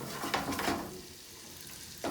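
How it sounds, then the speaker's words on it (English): Garlic and ginger sizzle in a hot pan for salt and pepper shrimp, a brief bright frying hiss with a few crackles and a short stir. "Pretty much make it until it's kind of brown the garlic and ginger a little bit."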